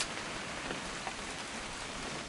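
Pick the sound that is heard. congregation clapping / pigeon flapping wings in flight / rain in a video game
rain in a video game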